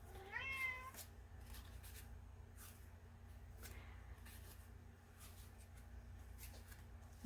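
A cat gives one short, rising meow right at the start, fairly close but soft, followed by several seconds of a quiet room with only faint scattered rustling.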